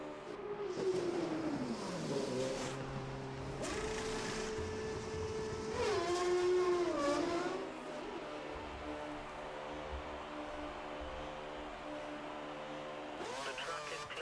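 A Force India Formula One car from F1 2013 slows into the pits at the Italian Grand Prix, its engine note falling and flaring through downshifts before settling into a steadier limiter-like drone, with a voice speaking over parts of it.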